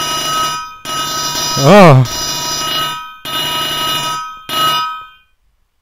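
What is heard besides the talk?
phone ringtone in the video game Minecraft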